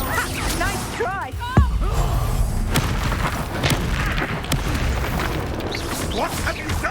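Spell blasts and booming explosions from the Hogwarts Legacy video game, a Confringo fire curse among them, with loud bursts and crashes in dense combat, a strong hit near the middle, over game music and character voices.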